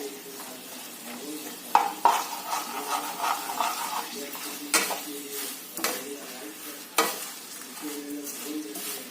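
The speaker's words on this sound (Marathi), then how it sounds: "त्यामध्ये हे मणुके घालायचे मणुके लगेच तेलात फुलतात" Raisins fry in hot oil in a pan while making chivda, a soft crackling sizzle with several sharp clinks and scrapes of a spoon stirring against the pan, close and moderately loud.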